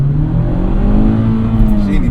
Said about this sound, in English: Oh, she heard that engine roar.